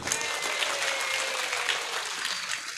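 Sustained audience applause at an Indonesian religious lecture by Ustadz Abdul Somad, a steady dense wash of clapping that holds evenly throughout, fairly distant and without talk.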